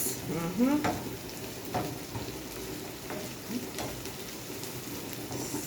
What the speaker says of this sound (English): So I allow my veggies to saute for a while.